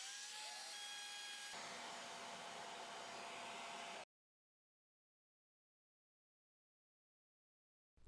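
A 1/2 inch router bit flattens an epoxy coffee table with a loud, steady whine that shifts in pitch midway, then cuts off abruptly into silence.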